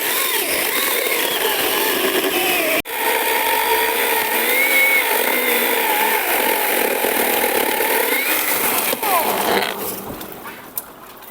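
An ABS Professional 21V battery chainsaw cuts steadily through a tree for about ten seconds, loud and close, with a sharp crack partway through and the motor winding down near the end.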